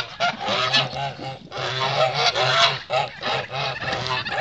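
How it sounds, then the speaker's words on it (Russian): A flock of geese honking loudly and continuously as they meet newly arrived ducks in a yard, overlapping calls in bursts with brief dips, close by. "Гуси сейчас их встречают."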